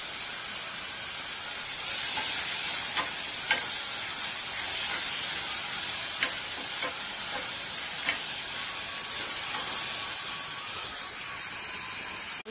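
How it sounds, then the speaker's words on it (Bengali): Carrot frying with ginger, garlic and salt in a pan hisses and sizzles steadily, close and bright, while a spatula stirs and scrapes now and then over roughly twelve seconds. "গাজরটা ভাজা হয়ে গেছে"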